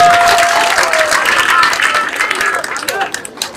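A church congregation breaks into sustained loud applause, a dense wash of clapping that slowly thins out, with a voice speaking over it.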